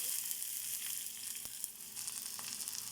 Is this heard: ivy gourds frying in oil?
yes